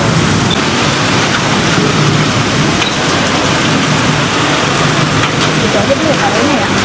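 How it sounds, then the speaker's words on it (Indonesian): Rain pouring steadily with a dense, hissing patter on surfaces, loud and continuous, with faint voices underneath. "Hujan."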